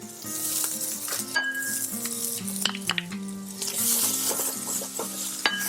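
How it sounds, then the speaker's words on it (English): Garlic sizzles in a pan for sweet potato soup, a continuous frying hiss with faint stirring clinks. A steady, stepping musical tune plays underneath throughout. "It's time to put the garlic in."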